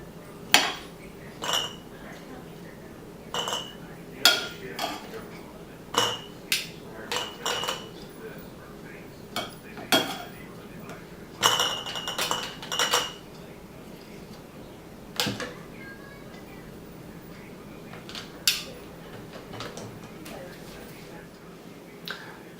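Cucumbers being packed into glass canning jars for homemade dill pickles, with repeated sharp glassy clinks and knocks at an uneven rhythm, close and fairly loud over a quiet room, with a little talk in the background.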